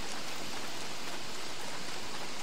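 Steady, dense rain falls in the survival game Don't Starve, an even hiss of drops with no breaks and no voices.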